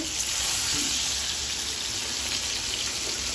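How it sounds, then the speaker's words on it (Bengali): Rui fish frying in a pan at home, a steady broadband sizzle with crackle that holds at an even level throughout, no talk over it. "দেখেন মাছটা ভেজে নিচ্ছি।"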